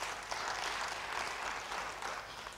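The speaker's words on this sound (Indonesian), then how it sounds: "Ya, beri tepuk tangan bagi dia." Church congregation at a Bible study applauding a member, a soft, steady patter of many hands clapping, faint and somewhat distant, with no talk over it.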